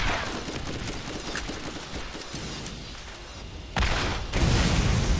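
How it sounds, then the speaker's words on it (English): Rocket turret and player rockets firing in the shooter Borderlands: rapid, dense bursts of gunfire and blasts rattling continuously, swelling louder near the end, with no voices. "rocket turret against my rockets"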